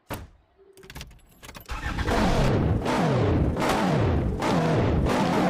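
A car pulls away on a test drive, its engine revving hard in repeated rising surges as the driver shifts through gears, loud and close after a brief rattle at the start.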